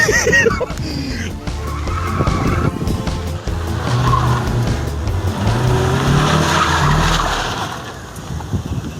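A Mazda Miata being driven hard, with a steady loud engine roar and squealing, skidding tires over most of the run before the noise eases off near the end; a voice may be faintly present.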